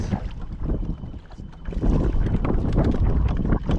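Strong wind buffeting a fishing boat on open water, a loud continuous rushing roar with gusty swells and microphone wind noise, water sloshing underneath, no talking.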